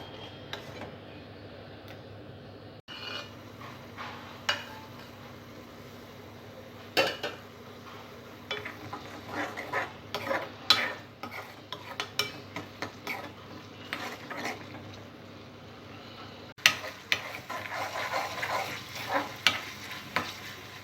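Tomato paste cooks in hot oil for a cherry tomato curry, giving a steady low sizzle broken by frequent scrapes and clinks of a spoon stirring against the pan. No voices are heard.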